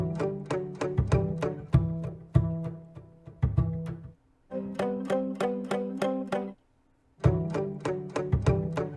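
A rendered pattern from Arcade's activation preset, layered onto a guitar sample, plays as rhythmic plucked stabs in quick repeated bursts, with two brief silent breaks between phrases.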